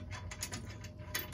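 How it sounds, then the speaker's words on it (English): A ratchet wrench tightens a bolt on a John Deere universal hitch, giving a quick series of faint, evenly spaced clicks over a low steady background hum. "And let's get that bolt in there now."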